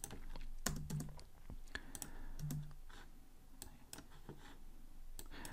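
Keystrokes on a computer keyboard while coding in Kotlin, a scattered run of light, fairly close clicks and taps with a few heavier presses, heard alone over a steady background hiss.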